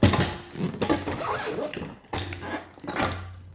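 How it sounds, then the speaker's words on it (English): Big zippers running around the outside of a BAGSMART Getaway 20L carry-on bag, pulled in a few long rasping strokes with brief pauses between, close and clear. "So you take this zipper around the outside, these big zippers."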